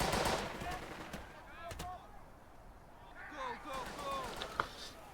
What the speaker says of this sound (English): now we will probably get fired on by this machine gun here from the west